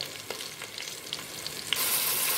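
Green chilli frying in hot oil with garam masala while cooking mutton biryani, a steady close sizzle with a few soft stirring scrapes, brightening into a louder hiss near the end.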